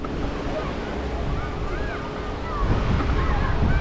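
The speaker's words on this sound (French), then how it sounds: "Voilà, la plage." Ocean waves washing onto a beach in Annaba, a steady broadband surf with wind buffeting the microphone, growing slightly louder toward the end; no talk is heard.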